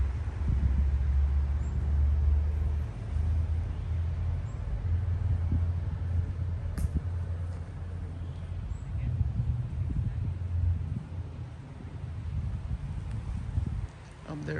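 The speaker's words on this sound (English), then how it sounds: "you will hear a lot of traffic." Road traffic rolls past beside a cemetery, a continuous low rumble of passing vehicles that swells and fades at moderate distance, with faint wind and occasional small knocks nearby.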